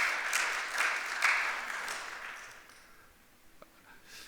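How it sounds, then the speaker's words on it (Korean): Congregation at a Korean church worship service applauds in a steady wash of clapping that fades out over a few seconds, with no talk over it. "여러분 한번 축하 한번 박수해 주시기 바랍니다."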